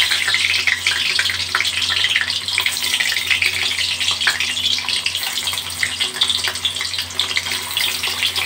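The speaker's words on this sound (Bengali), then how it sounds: "বাকি যে পনিরগুলো রয়েছে সেগুলো ভাজার জন্য আমি দিয়ে দেবো।" Paneer cubes frying in oil in a pan, a dense, loud, continuous hiss and sizzle close to the microphone with no talk.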